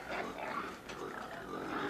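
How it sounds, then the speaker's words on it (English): Pigs grunting and squealing on a large pig farm, a continuous close chorus of overlapping animal noises. "She's in charge of 6 dozen pigs."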